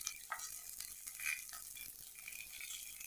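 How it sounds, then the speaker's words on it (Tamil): Onions sauté lightly in a pan for a ginger theeyal, giving a steady close sizzle with soft stirring scrapes throughout and no talking. "வெங்காயம் போட்டுக்கோங்க. லேசாக வதக்கினா போதும்."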